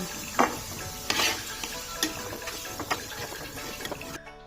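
Potato pieces fry in hot oil in a kadai, a soft steady sizzle broken by several sharp spatula scrapes and clinks against the pan before the sound cuts off.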